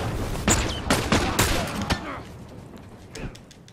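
Gunfire aimed at the player in The Last of Us: several sharp, loud shots crack in quick succession over the first two seconds, then fainter scattered reports trail off.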